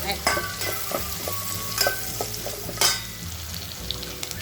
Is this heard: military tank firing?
no